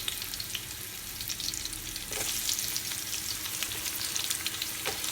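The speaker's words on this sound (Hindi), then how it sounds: "इस तरह सारी प्याज डाल के तो प्याज़ों को हमने हल्का सा गोल्डन ब्राउन करना है" Onions sizzle steadily in hot olive oil, a close, continuous hiss and crackle that swells slightly partway through, with an occasional light stir and no talking.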